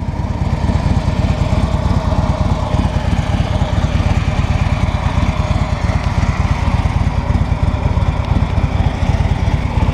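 A 2015 Harley-Davidson Street Glide Special with a 103 cubic inch high output engine runs steadily nearby, a loud, even, throbbing rumble with no talking over it.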